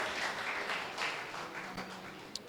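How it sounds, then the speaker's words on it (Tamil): Applause from an audience at a Tamil Nadu Brahmin association's panchangam release ceremony, a steady wash of many hands clapping at moderate distance, holding even for a couple of seconds with no voices over it. "நல்ல பலத்து கரகோஷம் கொடுங்க."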